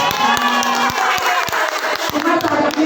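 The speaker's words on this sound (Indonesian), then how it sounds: "CGP hebat, beri tepukan dong." An audience at an indoor teacher-training event breaks into loud applause, dense clapping mixed with cheers and some voices, sustained throughout at close range.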